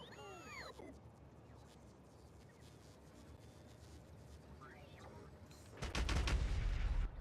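Artillery firing in the video game Factorio from a train with three artillery wagons, a loud rumbling burst of rapid booms arriving near the end after quieter game ambience with faint chirping effects.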